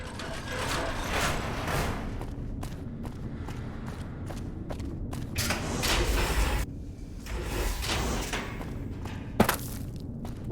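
A heavy mechanical door opening in Fallout: New Vegas, with grinding, ratcheting gears and sliding metal, thuds and clanks over about ten seconds, loud and close without any talking.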